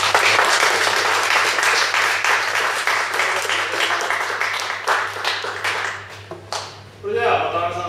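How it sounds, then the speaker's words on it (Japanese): An audience at a LibreOffice conference panel discussion claps loudly for the panelists, the dense applause thinning out toward the end as a voice begins to speak. "パネラーを引き受けていただいたお三方に盛大な拍手をお願いします。"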